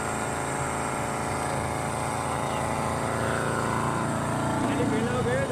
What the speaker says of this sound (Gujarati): હવે મશીનની દોરી ખેંચીને મશીન ચાલુ કરે છે જોઈ શકો છો તમે મશીન ચાલુ થઈ ગયું